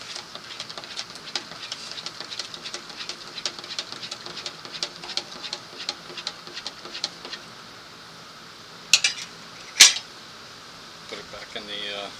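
A spoon clinks and scrapes in a small pot of trail coffee, a quick run of light metallic taps and stirring, then a couple of sharper clanks near the end.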